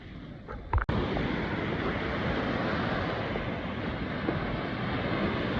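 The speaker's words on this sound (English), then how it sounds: "Beautiful waves." Lake waves wash steadily onto a beach near the lighthouse at Frankfort, Michigan, a continuous broadband surf roar with light wind, preceded by a brief knock near the start.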